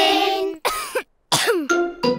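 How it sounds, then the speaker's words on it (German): An animated pig character from Peppa Pig coughs in a few harsh, throaty bursts separated by short pauses, clear and close with no talk over it. "Petros Husten ist ansteckend."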